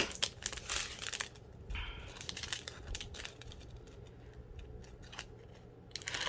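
Repeated snipping and crinkling as scissors cut through crackly plastic packaging, close up, with rustling between cuts.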